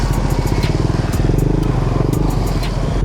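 A Yamaha NMAX 155 scooter with an open muffler idles and revs close by, a steady throbbing engine note with a few sharp higher pulses, alone with no talk.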